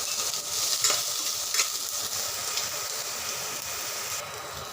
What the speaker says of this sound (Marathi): आणि तेलात कापून ठेवलेला कांदा घालूया।